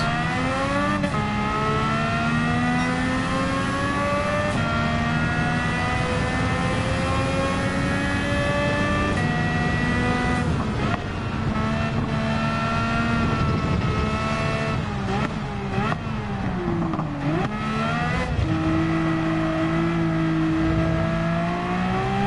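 Race car engine in Gran Turismo 7 roaring continuously at high revs, loud and close, with rising and falling pitch as the car shifts gears and accelerates through the final lap, no talk over it.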